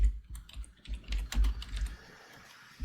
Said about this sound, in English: I'm typing on the wrong keyboard.